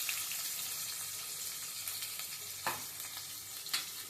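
Whole spices, onion and green chili fry in oil for a mutton curry, giving a steady, close sizzle with a few brief louder crackles and stirring sounds.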